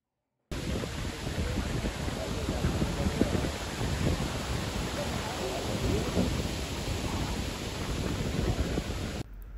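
Morning rainfall in Sri Lanka pours as a dense roar under low rolling thunder, loud and sustained for most of the stretch before cutting off abruptly.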